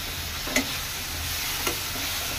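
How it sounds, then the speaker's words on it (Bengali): Spice masala sautés with hot water in a pan, producing a steady soft sizzle with two brief scraping stirs. "হাফ কাপ গরম পানি অ্যাড করে এখন আমি মশলাটাকে কষিয়ে নেব।"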